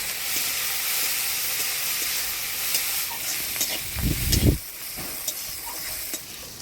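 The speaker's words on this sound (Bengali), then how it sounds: "এবার বড়া ভাজার জন্য চিংড়ি শুটকিটা ভেজে নিব" Dried shrimp fry in hot oil for shrimp fritters in a village kitchen, giving a steady broadband sizzle with a louder, heavier burst of stirring and spattering near the middle, then settling back.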